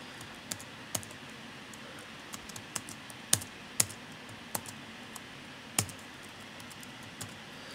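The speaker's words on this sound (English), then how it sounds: "let me just type it out" Code being typed on a computer keyboard: scattered, irregular key clicks, a few sharper louder strikes, close up over a low steady room hum, no talking.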